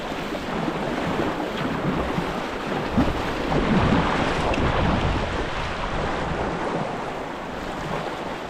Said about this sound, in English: if you can get to where you can pick that up and just start paddling like that